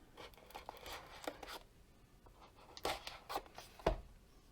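A knife cuts into a cardboard box with faint scratchy slices and soft tearing and scraping sounds, in short bursts with brief pauses between them, close to the mic in a quiet room.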